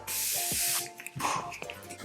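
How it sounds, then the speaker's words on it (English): Morphe Continuous Mist setting spray hisses out in a long, close burst, then a second shorter spritz after a pause, bright and airy with nothing else heard. "I'm just going to go in with a tiny bit of my Morphe Continuous Mist."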